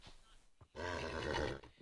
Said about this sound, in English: Ah, angry horse.